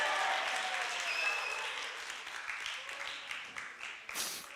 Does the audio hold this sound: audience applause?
yes